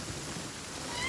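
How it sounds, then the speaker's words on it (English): Heavy rain pours down in Genshin Impact, a steady broadband hiss that holds evenly throughout, close and continuous with no voices over it. "Quite a downpour."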